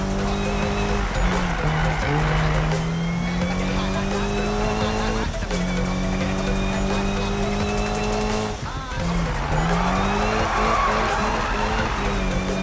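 Car engine revving continuously in the Need for Speed racing game on Xbox One, with gear shifts and repeated tire squeals and skids, loud and steady throughout without talk.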